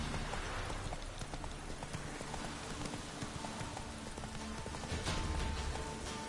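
The horse Roach from The Witcher 3 gallops through rain, its hooves pounding in a quick, steady clip-clop rhythm over a constant wash of rainfall and a low rumble, close and continuous throughout.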